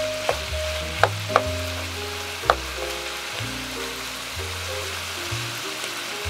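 Jjajangmyeon ingredients seasoned with salt and pepper frying in a pan, a steady broadband sizzle with a few sharp pops and stirring clinks, close and continuous with no talk.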